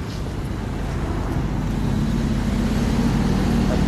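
A car passes on a street in Japan with a steady, loud low rumble of engine and road noise that builds slightly as it nears, no talking heard.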